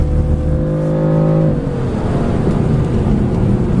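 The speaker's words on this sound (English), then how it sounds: "Listen to that engine." A BMW M3 or M4 engine revs high on the Road America racetrack, then drops in pitch into a rough, throaty rumble up close, with no talking.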